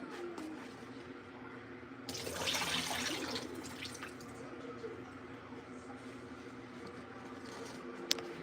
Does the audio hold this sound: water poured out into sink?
yes